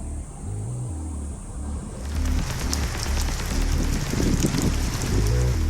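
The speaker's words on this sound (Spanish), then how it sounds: "Mira cómo llueve torrencialmente, parece que es peor que la del 25 de marzo." Torrential rain pours down heavily in a continuous loud roar, with a dense wash of drops and low rumbling underneath.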